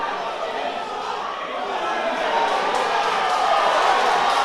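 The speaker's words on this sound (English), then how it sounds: "You can hear the crowd really get behind their boxers." Spectators at an amateur boxing club home show in Lochee roar behind the fighters, a broad crowd noise that grows louder over the span while a commentator talks over it.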